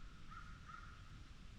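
Two faint caws from a crow somewhere in the distance, spaced a moment apart over a soft outdoor background.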